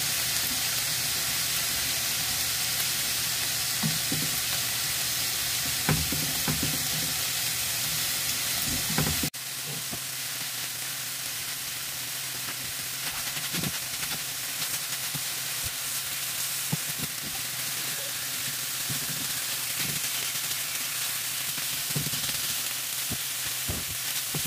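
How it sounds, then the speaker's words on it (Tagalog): Pork belly samgyeopsal and garlic fry in a pan, a continuous close sizzle and crackle with scattered pops and a brief drop in intensity partway through. "kapag may ganitong bawang sinasabay sa pagluto ng samgyupsal"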